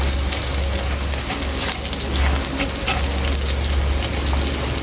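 Tuna simmers and fries in sauce in a pan, a dense crackling sizzle that holds loud and steady throughout, with rain-like spattering above a low rumble.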